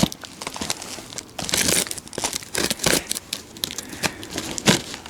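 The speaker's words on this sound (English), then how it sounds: "so I'm using my Land Rover keys to open it" Keys tearing and crinkling open a cardboard box of parts for a Ferguson tractor, with close, irregular bursts of crackling and ripping throughout.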